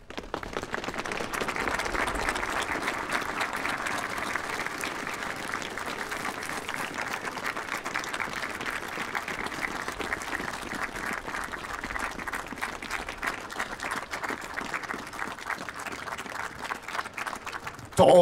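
Sustained audience applause fills a spring celebration honouring the season after a fourfold cheer, steady dense clapping from a large crowd lasting the whole stretch with no talk over it.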